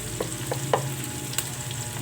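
Garlic and onions frying in a pan while being stirred, a steady low sizzle with a hum beneath it, punctuated by a handful of light spoon clinks against the pan.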